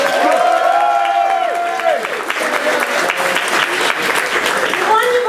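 Audience applause and cheering for a pianist at a comedy cabaret show at the Royal Vauxhall Tavern, loud and close, with sung or whooping voices over the clapping crowd.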